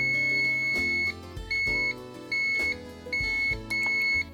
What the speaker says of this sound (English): It'll just keep beeping.